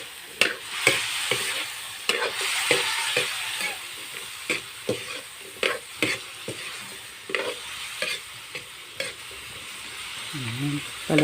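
Ingredients for a Filipino mung bean and pork dish sautéing with ground pepper in a pan, with a steady sizzle broken by repeated sharp clacks and scrapes of a spoon stirring, close up and without speech.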